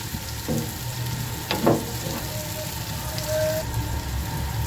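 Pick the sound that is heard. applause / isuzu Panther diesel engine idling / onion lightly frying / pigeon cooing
onion lightly frying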